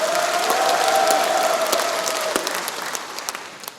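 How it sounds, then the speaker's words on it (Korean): An audience at a civic association lecture in Chungcheongnam-do applauds, a dense burst of clapping that gradually thins into scattered individual claps, with a sustained tone sounding beneath the first half. "김상환 협의이장님한테도 군산군 회원님 함께 박수 한번 부탁드립니다"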